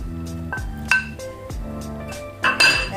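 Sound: mixing carrots into hot pot shabu shabu

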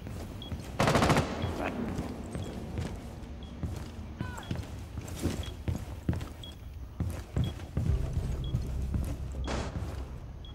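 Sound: gunfire in video game Rainbow Six Siege

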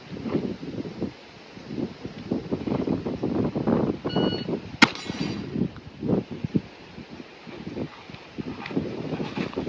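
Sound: handgun shots fired in a shooting drill

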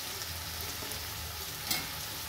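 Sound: potatoes and tomato frying in a pan as capsicum is added

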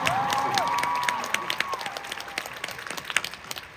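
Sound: concert audience applause

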